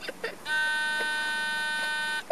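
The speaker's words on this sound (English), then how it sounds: "It beeps regularly." An Arduino-built electronic mole repeller buzzer placed in garden ground emits one steady, sustained high-pitched tone, faint and close, with brief clicks and a voice-like burst around it.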